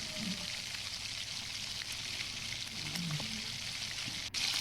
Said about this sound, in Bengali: এখন মাছগুলো ভেজে নিচ্ছে প্রায় এক পিঠ হয়ে গেছে এখন মাছগুলো উল্টে নিবে